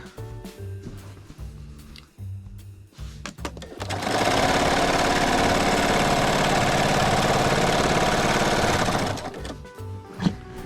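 A sewing machine stitches quilt binding through batting and four layers of fabric, a loud steady whir running for about five seconds after some softer handling sounds, then stopping.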